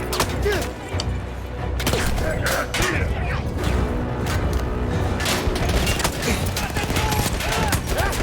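Gunfire in the video game Battlefield, dense rapid bursts of shots and booms running continuously and loudly throughout, with a player's voice talking over the fight.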